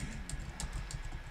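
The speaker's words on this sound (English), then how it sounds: "I'm smashing buttons on my keyboard trying to get potatoes." Rapid, hard keystrokes on a computer keyboard, mashed repeatedly while playing the survival game Raft, making a dense, clattering stream of clicks close by, with no talking.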